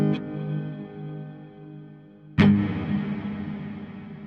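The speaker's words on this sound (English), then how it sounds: "You hear a little bit of modulation going on, kind of because it happens naturally in the reverb anyway." A sustained synth tone fades under a lush, slowly wavering reverb tail from the Stratosphere Cloud Reverb plugin, then a sharp attack hits and blooms into a shimmering, modulated wash.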